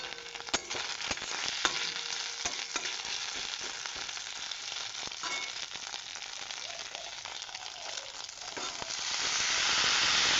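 Bottle gourd tipped into a pan of frying onions, chilli, panch phoron and a fish head, giving a steady loud sizzle with clattering stirring clicks, the frying swelling brighter toward the end.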